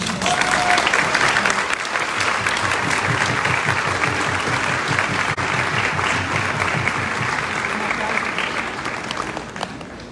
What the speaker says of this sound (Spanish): Así que dense un aplauso.